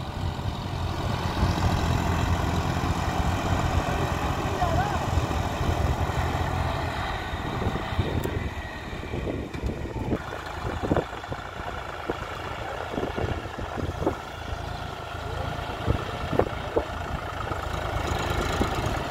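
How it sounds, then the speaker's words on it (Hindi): A John Deere 4x4 tractor engine pulls hard under load, a steady loud diesel drone with rumbling bursts and clatter in the second half, with no voices. "देख सकते हैं जॉन डियर कितने दमदार तरीके से खींच रहा है।"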